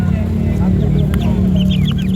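Young Bangkok chicks, a local fighting-cock breed, cluck and peep in a steady chatter over low farmyard background noise, with a voice talking now and then.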